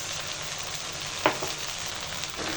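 Vegetables with soy sauce and sweet chili sauce sizzle in a hot pan over high heat for chicken fried rice, a steady close hiss broken by one sharp scrape of a spatula.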